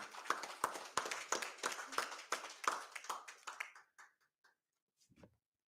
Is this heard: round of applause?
yes